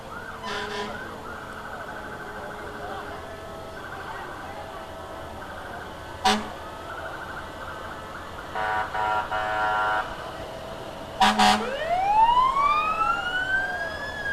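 A New Haven Fire Department fire engine sounds brief horn blasts, then its siren winds up into a loud, rising wail near the end, with voices in the background at a parade.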